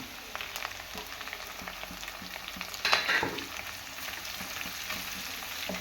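Onion, ginger, curry leaves and green chili sizzle steadily in hot oil for a fish curry, with a spoon stirring and scraping through the pan and a brief louder clatter midway.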